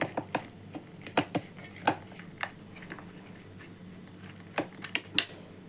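A spoon clinks and scrapes in a metal bowl while mashed peas are mixed with oregano and spices for a paratha filling, giving irregular taps and scrapes with a few sharper knocks.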